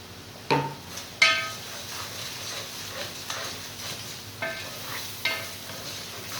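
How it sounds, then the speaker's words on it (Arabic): Onions sauté in a pan with spices and chicken stock, giving a low continuous sizzle broken by several sharp clinks and scrapes of a utensil against the pan, close and with no speech. "شوحها مع البصل لما تشم ريحتها"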